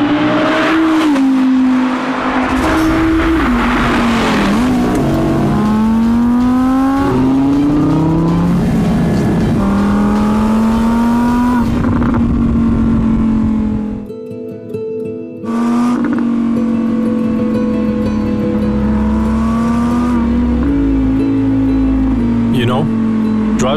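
An Audi with a Lamborghini-shared V10 and quattro all-wheel drive runs hard on a mountain road, the engine droning loud and close as it climbs and drops through gear changes, with a brief lull before pulling again.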